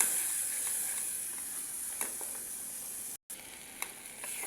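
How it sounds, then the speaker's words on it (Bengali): Spices for a catla fish curry with potato, eggplant and beans fry in hot oil with a steady, soft sizzle and faint stirring ticks, broken by one brief dropout. "এই আমার তরকারি কষানো তেল উঠে গেছে"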